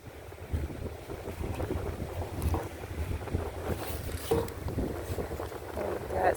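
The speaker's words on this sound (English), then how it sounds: "It's quite windy." Strong coastal wind at a bayside shore buffets the microphone in a steady, rough roar that rises and falls in gusts.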